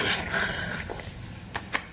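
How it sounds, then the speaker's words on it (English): Pomeranian dog growling in a film scene, a low continuous rumble over a noisy background, with a couple of short sharp sounds near the end. "You made a goddamn vampire Pomeranian?"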